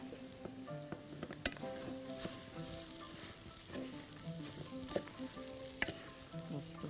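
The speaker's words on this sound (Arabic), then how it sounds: "لما لونها يبقى كده هنزل الرز بتاعي وهقلب" Rice frying in oil in a pan while being stirred, browning for a brown rice dish; steady close sizzle with scraping stir clicks throughout, no talking.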